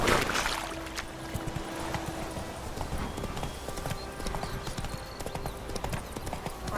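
Hooves of the horse Roach clip-clop steadily in a video game, a brisk continuous rhythm close up, with a brief burst of noise at the start.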